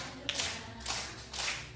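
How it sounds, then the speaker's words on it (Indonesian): A small church congregation claps in rhythm with a hymn during a Sunday sermon service, three or four loud claps spaced about every half second over low murmuring voices. "Ulang sambil tepuk tangan"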